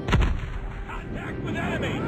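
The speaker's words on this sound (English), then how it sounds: "Friendly airstrike incoming." Airstrike explosions in Call of Duty Mobile: a sharp, heavy blast opens, followed by a rolling rumble and debris noise as the strike continues, with faint game voices underneath.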